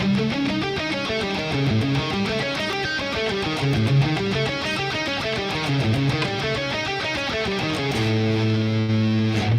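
Heavily distorted electric guitar plays a dense, continuous run of notes, loud and saturated, ending on a sustained low chord.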